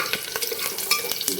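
Onions frying in a pan as the base for a meat curry, stirred with a utensil that makes repeated short scraping strokes over a steady close sizzle, with no voices.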